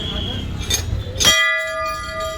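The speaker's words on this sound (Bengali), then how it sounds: "এবার গিয়ে ঘন্টাটা বাজাবে" A large bell at the Chitai Golu temple in Almora is struck once and rings on with a long, clear, sustained tone after muffled crowd noise and talk.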